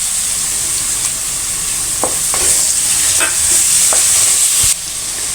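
Onions with ginger-garlic paste fry in a pan with a loud, constant hissing sizzle, heard up close, with a few sharp stirring taps and scrapes scattered through and no voices.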